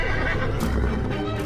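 A horse neighs in a palace stable at night, a loud, close whinny over a busy mix of hoof clip-clops and shuffling that fills the whole stretch.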